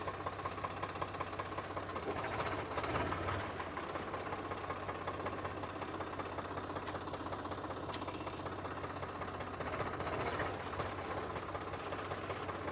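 A used Swaraj 744 FE tractor's diesel engine runs steadily in first gear, with an even, rapid knocking throb and constant mechanical rattle nearby, no voices.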